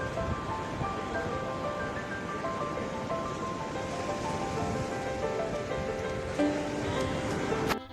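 Ocean waves at Ladghar Beach in Dapoli on the Konkan coast of Maharashtra in early morning, a continuous even roar of surf that stays steady and fairly soft from start to finish.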